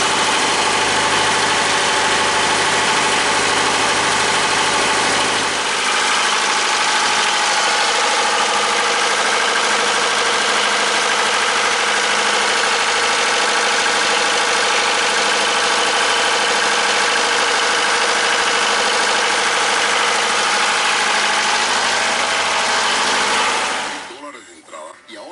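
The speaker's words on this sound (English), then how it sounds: "just finished running the engine" The engine of a skipjack sailboat runs at a steady idle, a loud continuous drone with low vibration that holds for most of the stretch before cutting off near the end.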